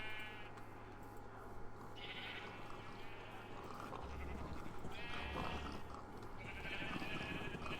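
In the Minecraft video game, sheep bleat several times, the wavering calls spaced a second or two apart and fairly faint over a steady low hum.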